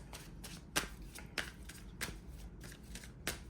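Self-care cards being shuffled by hand: a quiet series of crisp riffling snaps at an irregular rhythm, close and alone with no talk.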